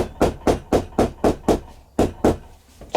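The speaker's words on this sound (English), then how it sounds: "It really does pay to hammer your stitches down." Plastic or nylon hammer tapping sewn leather stitches flat on an anvil, a steady series of about ten close, sharp knocks evenly spaced, with a brief pause partway through.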